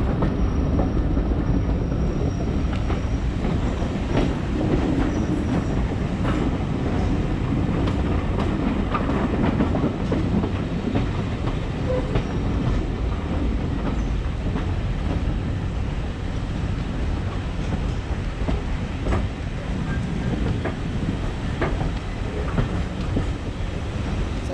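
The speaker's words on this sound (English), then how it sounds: "I have got some footage from the train going around this exact spot from" A heritage train on the Churnet Valley Railway rolls past nearby, with a continuous rumble and rhythmic clickety-clack of wheels over rail joints, occasional squeals, loud and steady throughout.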